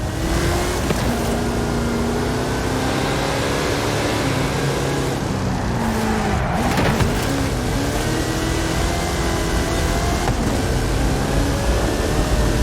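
A Hot Wheels vehicle with a 540 cubic inch Chevrolet engine and 66 inch Terra tyres in Forza Horizon 5, a loud, continuous engine drone with shifting revs throughout, heard alone without talk.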